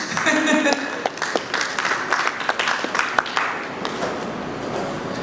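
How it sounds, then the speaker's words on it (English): Audience applause at the Polaris Bank VULTe unveiling event, many hands clapping with sharp individual claps over a crowd wash that thins toward the end, with a voice over it. "A round of applause as I make my way off the stage."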